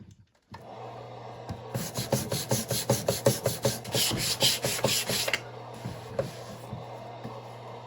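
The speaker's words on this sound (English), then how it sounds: "I have a hand sanding block" Close, rhythmic scraping of a hand sanding block on the wood of a drum carder, a steady series of quick back-and-forth rasps against a low background hum.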